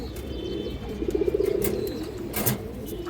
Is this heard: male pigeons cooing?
yes